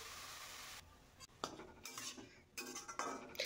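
Metal spoon scraping and clinking against a pan as red amaranth greens are stirred, a run of close, irregular stirring scrapes and taps with a faint sizzle underneath, no talking.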